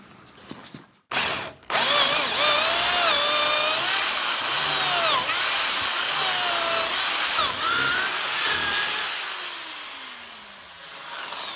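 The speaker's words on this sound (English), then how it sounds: "I'm going to hold it vertical and I'm going to just hog out a whole bunch of material from this mortise." A drill with a Forstner bit boring into a timber mortise, a close, loud whining drone with pitch rising and falling as the bit bites and eases, preceded by a few short bursts.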